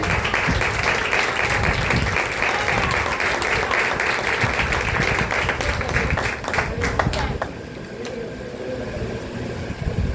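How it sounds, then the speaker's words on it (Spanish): A church congregation applauds during a Sunday morning sermon, a loud dense burst of clapping that carries on for several seconds, then dies away as a voice speaks. "Si usted lo cree, aplaude en esta mañana."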